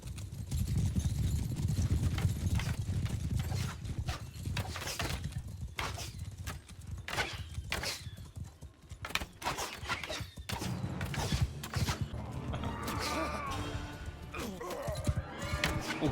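Horse archers galloping in a night battle in the video game Mount & Blade II: Bannerlord, with dense hoofbeats, horse whinnies and battle clatter forming a continuous, moderately loud din, and a brief voice in the mix.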